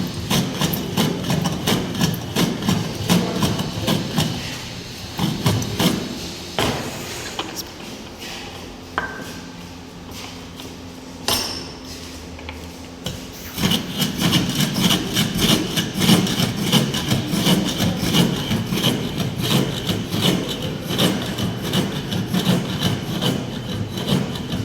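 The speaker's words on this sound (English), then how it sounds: "First we need to fix it in the jack and we should smoothen it using jack." A jack plane smoothing a clamped piece of wood at a carpentry workshop bench, giving steady rasping strokes that repeat closely one after another, with a short quieter pause in the middle, close and fairly loud, no talking.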